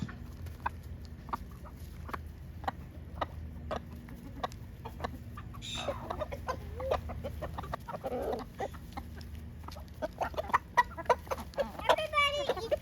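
Backyard chickens and ducks peck and feed on coconut at close range, soft clucks and a sharp clicking of beaks scattered throughout over a low steady hum, with occasional faint voices.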